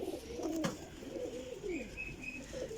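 Pigeons coo softly and repeatedly nearby, low rolling calls following one another with brief breaks, along with a faint higher whistle-like tone and a sharp click near the start.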